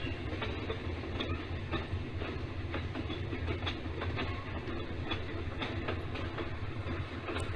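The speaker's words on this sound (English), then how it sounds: "Another day, another coal train from Mayfield. This one is all KP&W power." A model railroad coal train pulled by GP9 and RS3 locomotives in KP&W paint rolls along a layout, with a soft continuous rumble and light clicking of wheels, fairly faint and steady throughout.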